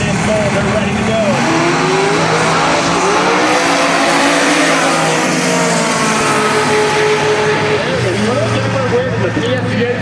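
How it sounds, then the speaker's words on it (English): Nitrous Pro Mod drag cars, a Chevrolet and a Ford Mustang, roar loudly and continuously at a heads-up eighth-mile drag strip, engine noise rising and sweeping with crowd and announcer talk mixed underneath. "You can hear the boost being applied over there to the Ford Mustang"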